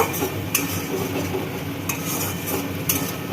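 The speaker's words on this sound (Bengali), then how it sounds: "এবার ভালো করে মিশিয়ে নেব।" Spices, ground coriander and cumin, being stirred into mung dal cooked with a fish head and green chillies in a pan, giving a steady scraping stir with soft sizzling underneath and a few sharper utensil knocks against the pan.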